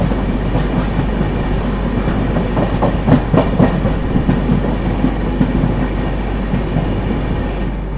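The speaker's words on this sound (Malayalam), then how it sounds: "നമ്മുടെ ട്രെയിൻ അങ്ങനെ കൊയിലാണ്ടി റെയിൽവേ സ്റ്റേഷനിൽ എത്താനായിട്ടുണ്ട്." Kannur to Yeshwantpur Express arriving at Koyilandy railway station, a loud steady rumble with rhythmic wheel clatter rolling on throughout.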